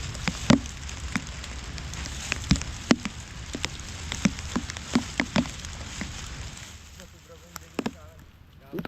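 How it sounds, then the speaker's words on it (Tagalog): Rain falling in sharp, irregular drops and taps on a hard surface, close and fairly steady, with faint voices in the background. "Yan ang araw ating hinihintay ay ulan."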